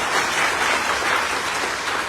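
Broadband clapping from an audience at a debt-relief team gathering, steady and fairly loud throughout with no talk over it.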